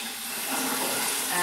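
Warm water runs steadily from a tap as hands are rinsed during hand-washing in tattoo sanitisation training, a broad hiss that rises slightly toward the end.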